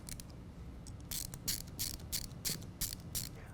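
An 8mm ratchet snugs a bolt on an aFe cold air intake in a 2015 Ford F150, giving short bursts of quick metallic clicking, close and fairly quiet, repeated in a loose rhythm.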